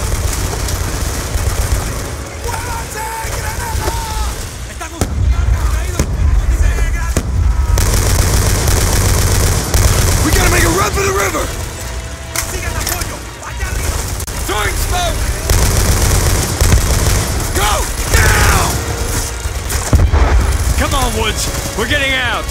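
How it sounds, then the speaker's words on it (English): Gunfire crackles and booms through a combat scene in the Call of Duty Black Ops 2 video game, bursts of shots and explosions mixed with shouting voices and loud battle noise. "They're still coming! Ah! Keep firing, Hudson!"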